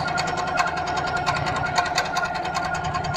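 A Capri longarm quilting sewing machine with an 18-inch throat runs at speed, a fast, even mechanical chatter of needle strokes heard close and steady, with no talking.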